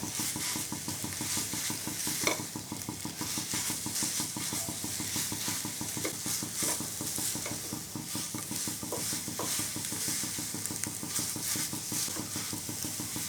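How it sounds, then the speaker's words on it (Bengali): White gourd sweet being stirred in a pan after powdered milk is added, a steady rhythmic scraping and light sizzling that runs evenly through the whole stretch at moderate volume, with no voices. "গুঁড়ো দুধ দিয়ে খুব ভালোভাবে মিশিয়ে নেব।"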